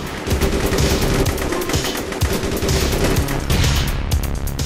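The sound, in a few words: gunfire from the video game APB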